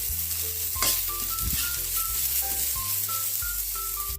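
Garlic and onion sizzle and fry in a hot pan for a Filipino chicken stir fry, a steady crackling hiss with occasional utensil clinks and rattles against the pan.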